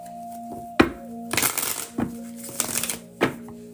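Playing or tarot cards being shuffled during a card reading, giving several short riffling bursts close by over a faint steady hum, with no talk.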